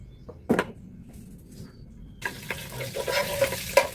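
Garlic sautéing in cooking oil in a pan while pancit palabok is being cooked; after a quiet start with a few soft knocks, a steady crackling sizzle begins midway and continues with small pops.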